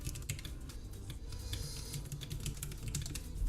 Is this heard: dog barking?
no